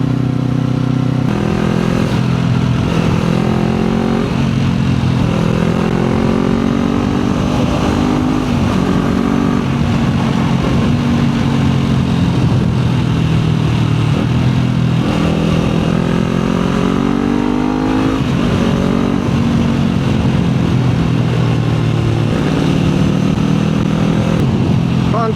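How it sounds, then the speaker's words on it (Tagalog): Motorcycles with stock exhaust pipes riding in traffic, a steady loud engine drone with rising and falling revs throughout, as heard from a Kawasaki Z400, with a rider's voice talking over it. "Ang tahimik ng mga motor ngayon, no?"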